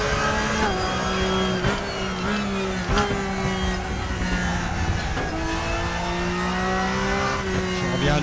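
A race car engine in the RaceRoom racing game drones steadily throughout, with a pitch that rises and falls through gear changes while someone talks over it.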